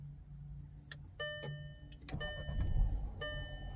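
A 2014 VW Passat starts by remote start: a few sharp electronic beeps and clicks, then the engine cranks and catches, settling into a steady low idle rumble nearby.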